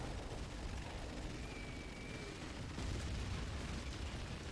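Claymore fire in the real-time strategy game Rise of the Reds comes through as a continuous wash of distant explosions and bursts, fairly faint but dense and unbroken.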